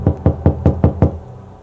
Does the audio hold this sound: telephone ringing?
no